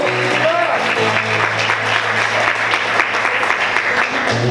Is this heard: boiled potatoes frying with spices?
no